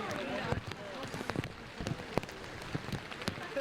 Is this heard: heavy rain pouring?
yes